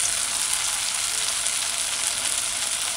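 Bammy, a cassava flatbread, fries in hot oil on a stove set to high, giving a steady, bright sizzle that holds evenly without pause.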